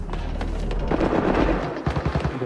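Video game gunfire rattles in a dense, loud burst of shots, followed by a few more spaced reports near the end, with no talk over it.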